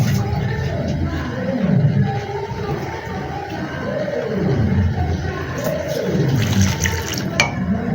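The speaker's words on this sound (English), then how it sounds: "So I'll add the water." Water pours steadily into a pot of Afang soup with a continuous splashing, gurgling rush, fairly close and loud throughout.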